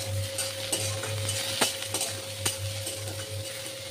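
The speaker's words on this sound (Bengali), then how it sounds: "কড়াইতে একটু তেল দিয়ে আমি বেগুনগুলো ভেজে নেব" Eggplant pieces fry in oil in a wok, giving a close, steady sizzle broken by intermittent sharp scrapes and clinks of a stirring utensil against the pan.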